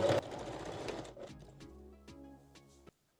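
A sewing machine runs a quick backstitch along a bra cup seam on a foam-cup bralette, a close, steady mechanical whir that slows into a few distinct stitch clicks before stopping.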